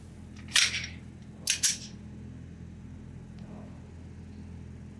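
Two sharp pistol shots from a Zev Technologies OZ-9 Combat at a shooting range, each a loud crack with a short ringing tail, a second apart, over steady background hum.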